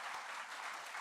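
Audience clapping at a children's laureate closing speech, a dense, steady wash of applause filling the whole second with no pauses.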